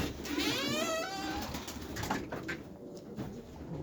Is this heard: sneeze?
no